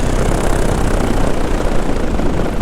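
A paramotor engine roars loudly and steadily under throttle in flight, a dense continuous drone with wind rush and no pauses.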